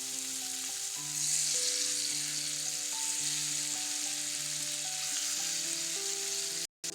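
Paneer fries in hot oil in a frying pan with a steady, close sizzle and crackle, while background music plays underneath the whole time.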